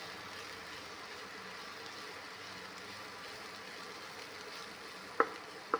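Onions fry slowly in a pan for a beetroot fry, a soft steady low sizzle with two brief clinks near the end.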